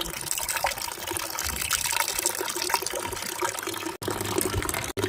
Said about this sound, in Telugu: ఫస్ట్ బకెట్లో అయితే నీళ్ళు ఇట్లా నింపుకొని హ్యూమిక్ యాసిడ్ అయితే ఇట్లా వేసుకోవాలండి